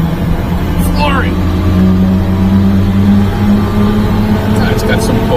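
A supercharged mini truck engine revs hard at full throttle, a loud close drone rising in pitch as it pulls, with voices talking over it.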